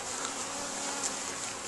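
Honeybees hum in a steady, soft drone at the entrance of a beehive, a continuous low buzz with no voices.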